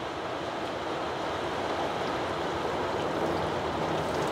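Thin fluid, mostly water mixed with acetone, drains steadily out of an abandoned 1948 Chevy truck, a constant close hiss and splash with no break and no voices.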